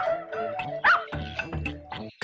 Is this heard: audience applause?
no